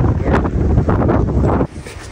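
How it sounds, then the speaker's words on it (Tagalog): Strong winter wind in Greenland buffets the microphone with a loud, rumbling roar that gusts steadily, then drops suddenly to a quieter rush near the end. "Malakas ang hangin."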